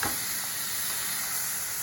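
Chopped onions, carrots and celery cooking in a pan for ragù bolognese, giving off a loud, dense and steady sizzle that carries through the whole moment without a break.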